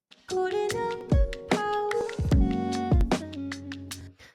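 A singing voice processed with autotune at maximum settings so each note snaps to flat, robotic steps between pitches, giving a synthetic warbling effect. It is loud and close.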